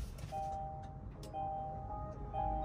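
Welcome chime from a Kia Niro electric car: a short electronic melody of clear, steady tones repeated three times over a low background hum, with no engine sound.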